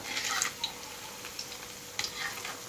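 Oil sizzling and crackling in a pan as an egg fries, with occasional stirring scrapes; steady, moderately close, no talking.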